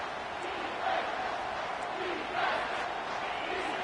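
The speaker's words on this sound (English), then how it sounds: "Decibels rising as the crowd gets behind this defense on 3rd down." Football stadium crowd roaring steadily as the home defense lines up on third down against Miami, a dense, continuous wash of distant cheering with a couple of swells in loudness and no clear voices on top.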